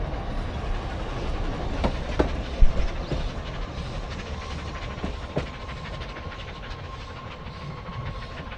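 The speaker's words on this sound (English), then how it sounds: "the noise of the train as it comes back around the spiral and continues with its journey" A steam train runs on a spiral track as it comes back around and continues its journey, a continuous rumbling rail noise with clicks of wheels on joints and a faint hiss, heard from a distance at steady volume.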